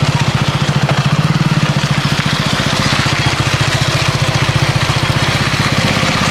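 A motorbike engine running in second gear while riding off-road, giving a loud, steady, close putter with an even rapid pulse throughout.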